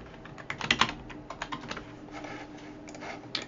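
Keys tapped on a computer keyboard in an irregular, fairly quiet run of clicks, a brief burst standing out among lighter taps with no voices.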